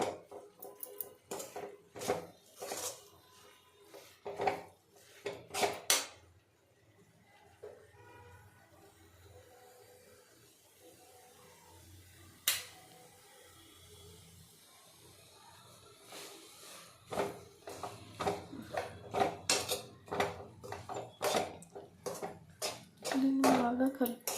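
Bitter gourd masala curry stirred in a pan, scattered clinks and scrapes of a spoon against metal in bursts, with quieter gaps and a voice talking in between.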